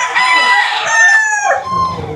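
A gamefarm rooster crows loudly and close by, one full drawn-out cock-a-doodle-doo with a falling tail, with faint background sounds at the end.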